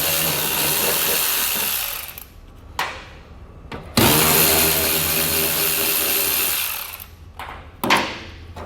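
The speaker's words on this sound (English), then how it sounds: "We're going to start by these two bolts here with a 10mm" Power tool with a 10mm socket running bolts out of a trailer hitch fascia, two long, loud whirring runs with short pauses and brief bursts between them, close up and without voices.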